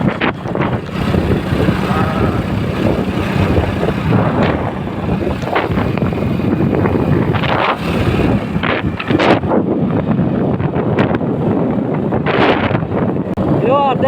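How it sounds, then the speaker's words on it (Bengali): Cold wind near the Jamuna bridge buffets a microphone while riding a motorbike, a loud continuous rushing roar with gusty bursts and talk over it. "এর জন্য অনেক ঠান্ডা বাতাস আসতেছে"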